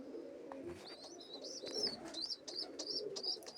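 Pigeons cooing softly close by, low murmuring calls overlaid with repeated high chirps, no talking.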